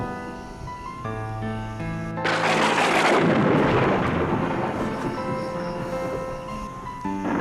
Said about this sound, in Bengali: বাইরে বিদ্যুৎ চমকাচ্ছে, ঝড় বৃষ্টি হতে পারে।